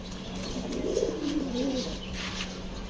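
Giribaz high-flyer pigeons at a pigeon sale coo softly and close by, a few low rolling calls over a constant background hum.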